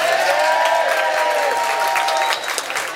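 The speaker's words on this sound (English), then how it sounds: "Let's have another practice clap." A crowd at an outdoor community fair concert gives a practice clap, loud dense applause with some cheering, held steady and then dropping off sharply near the end, over a faint humming tone.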